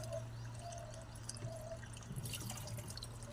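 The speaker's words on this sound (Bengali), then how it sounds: "এবার ট্যাঙ্কিটা ভর্তি হোক" Water runs into a household storage tank, a quiet steady trickle and pour with a faint drip, heard alone at low level.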